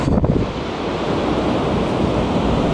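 Ocean waves surge and break steadily on a beach at night during metal detecting, a continuous close roar of surf and wash with some wind buffeting the microphone.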